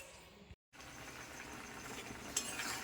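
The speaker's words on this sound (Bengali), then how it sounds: "তো বেশ করে মশলাটাকে কষিয়ে নিলাম তেলেতে একটু জিরে তেজপাতা দিয়ে টমেটো মশলাটা দিয়ে দিলাম" Spice paste with cumin, bay leaf and tomato sizzles steadily in hot oil, with a brief dropout near the start and a few clinks of stirring over the constant crackle.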